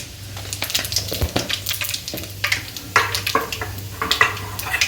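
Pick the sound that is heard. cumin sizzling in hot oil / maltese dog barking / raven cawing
cumin sizzling in hot oil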